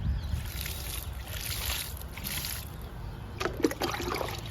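Water trickles and splashes steadily at close range onto garden flowering plants after fertilizer, with a brief louder gush of sloshing near the end.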